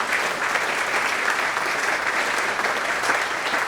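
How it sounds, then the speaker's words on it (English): An audience at a GO Foundation launch event gives the team a round of applause, an even, continuous burst of many hands clapping at steady loudness from start to finish. "So can we give a round of applause for our team?"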